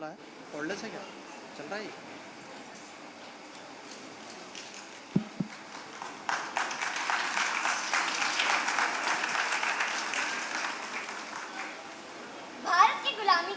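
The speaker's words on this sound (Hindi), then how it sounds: "आप जोरदार तालियों से उन बच्चों का हौसला बढ़ाइए" An audience at a children's theatre play at Pyare Lal Bhawan, ITO, claps, swelling into sustained applause midway and fading, with a voice and murmuring around it.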